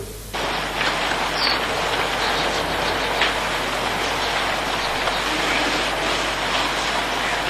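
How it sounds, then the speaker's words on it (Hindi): Steady rain falls in a continuous, dense hiss that starts abruptly and holds at an even level throughout, close and moderately loud with no voices over it. "हाँ, बारिश हो रही है।"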